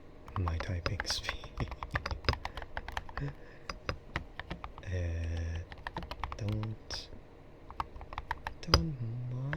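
Rapid, close keystrokes rattle across a keyboard with ceramic keycaps in a quiet room, a steady stream of clicky taps while a soft voice talks intermittently over them.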